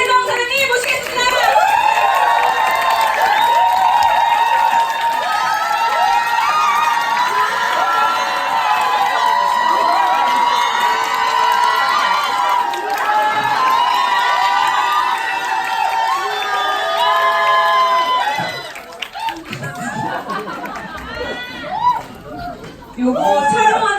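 A large indoor audience at a corporate group meeting cheers, shouts and applauds loudly and continuously as an executive takes the stage, dense crowd noise swelling and then thinning into scattered voices near the end.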